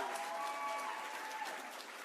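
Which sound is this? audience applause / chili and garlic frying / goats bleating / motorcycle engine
audience applause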